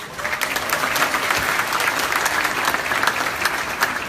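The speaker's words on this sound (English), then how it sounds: "Last round of applause for them." At an award ceremony, a room full of guests claps. The applause is steady and dense, fairly loud, and keeps up evenly for about four seconds with no clear talk over it.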